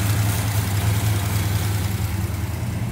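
A 1967 Plymouth Cuda convertible with a 273 V8, Commando version, idling steadily at close range; a deep, even low rumble with a slight pulsing throb, no talk.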